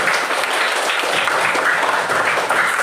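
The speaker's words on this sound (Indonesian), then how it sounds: "Silakan tepuk tangan yang semangat dulu semuanya" A class of schoolchildren applauding enthusiastically in a classroom, dense continuous clapping from many hands at a steady level, close and loud, with no speech over it.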